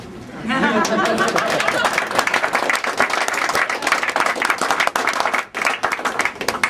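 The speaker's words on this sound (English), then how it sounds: "now's the time to clap" Audience applause at a jobs program presentation, dense steady clapping with some crowd chatter and a chuckle mixed in, loud and close for nearly the whole stretch after a brief quieter start.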